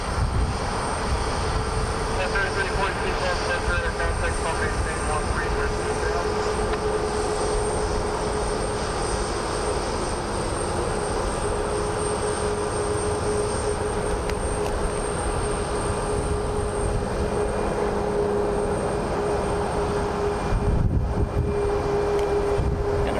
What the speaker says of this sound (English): Brand new American Airlines 737 MAX 8 just came in from Chicago a few minutes ago.